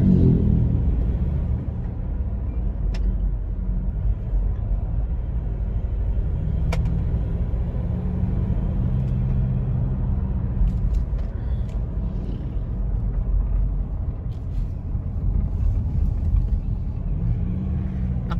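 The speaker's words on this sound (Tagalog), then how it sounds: "May truck na naman sa harapan." A truck drives ahead on a road toward Liliw, Laguna, heard from inside a following vehicle as a steady low engine rumble and road noise throughout.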